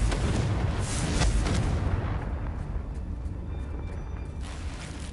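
The Confringo explosive spell in the Hogwarts Legacy video game: a heavy, roaring blast that rumbles and fades over several seconds, loud and dense with low booming energy.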